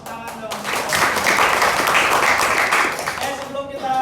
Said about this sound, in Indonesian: Terima kasih, tepuk tangan dong.